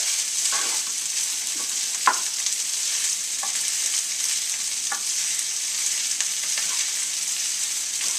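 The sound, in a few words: bacon, garlic and egg fried rice frying and being stirred in a pan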